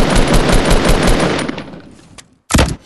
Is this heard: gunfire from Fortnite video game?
yes